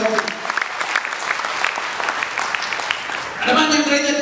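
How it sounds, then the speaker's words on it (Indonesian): A church congregation claps continuously, the applause swelling louder toward the end as a voice begins speaking over it. "Berikan tepuk tangan yang meriah."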